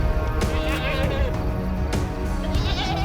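A herd of sheep and goats bleats loudly and close in rural Jawai, Rajasthan. Overlapping calls come one after another over a busy outdoor background, with a faint voice beneath.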